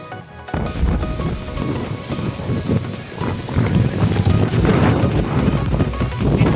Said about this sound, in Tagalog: tatangay ka talaga ng hangin dito